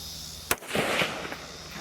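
A gun fitted with a Fostech Echo II trigger fires one sharp, loud report outdoors, followed by a brief rolling echo that fades over the next second.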